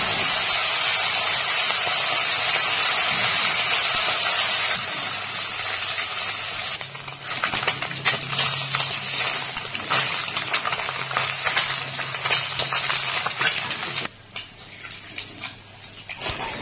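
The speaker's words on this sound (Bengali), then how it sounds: "এবারে মাছ ভেজে নেব।" Small river fish fry in hot oil in a wok, a dense, loud hissing sizzle that runs throughout, with crackling spatters growing busier partway through and easing slightly toward the end.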